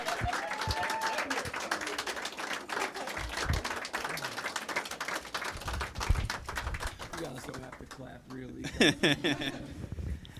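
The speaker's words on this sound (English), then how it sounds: "Keep it going. Keep it clapping." An audience claps for Gym Class Heroes in the KISS 1075 radio lounge, a dense, steady run of hand claps lasting several seconds, with voices talking over it near the end.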